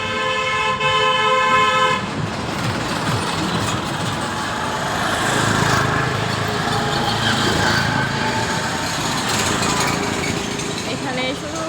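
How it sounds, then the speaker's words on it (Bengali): Busy main road traffic with engines droning steadily and a car horn sounding in a repeated toot at the start, followed by continuous passing vehicle rumble and occasional faint honks. "এখানে শুধু গাড়ির শব্দ আর গাড়ির শব্দ"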